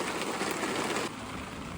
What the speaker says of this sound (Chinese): 大家听这个雨声